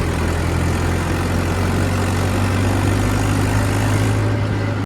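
A tractor's diesel engine runs steadily at idle with a heavy low rumble and strong gearbox vibration, loud and continuous, with no voices, cutting off abruptly at the end.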